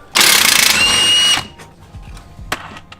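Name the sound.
ratchet loosening suspension bolt and nut on a Subaru WRX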